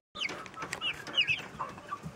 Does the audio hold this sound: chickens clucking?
yes